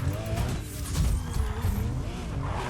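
A Subaru BRZ with a Rocket Bunny body kit tuned for drifting in NFS Heat accelerates hard, its engine note rising and wavering alongside tire squeal, close and loud for a few seconds.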